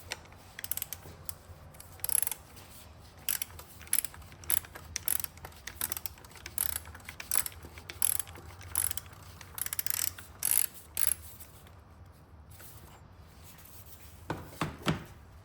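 Ratcheting socket wrench on a 2025 VW Jetta GLI oil filter housing, sounding as bursts of quick mechanical clicks and turning scrapes in a steady, close rhythm, pausing briefly near the end.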